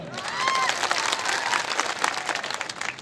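Loud applause from a crowd at a political rally speech in Margherita, a thick, steady burst of clapping with a faint vocal cry near the start, lasting throughout.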